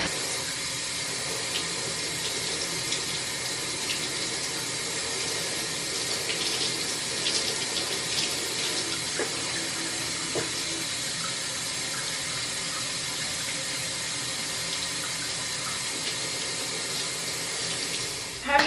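Water runs steadily from a tap during a hair wash, a continuous even hiss at moderate level that barely changes across the whole stretch.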